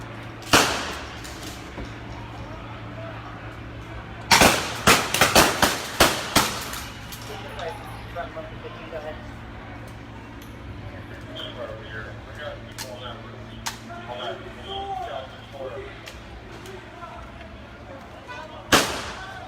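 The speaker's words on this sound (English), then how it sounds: "Another firework." Several sharp explosive bangs of fireworks at a night protest in Sacramento, a quick burst of pops in the middle and isolated loud cracks at start and end, with a low hum and scattered voices behind.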